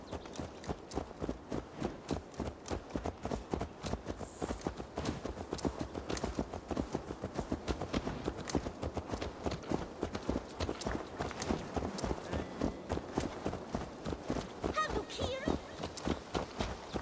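Horse hooves clip-clop at a walking pace in a video game, a steady even rhythm of hoofbeats that carries on throughout, with speech heard faintly in the background.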